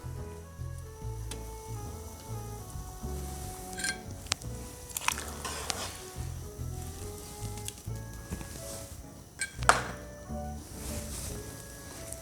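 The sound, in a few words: washed basmati rice added to boiling chicken yakhni broth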